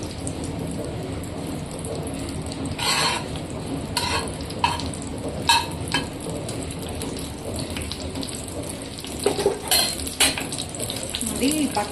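Butter melts and sizzles in a pan for white sauce pasta, a soft, steady frying hiss with occasional spoon scrapes and clinks against the pan, close and moderately quiet.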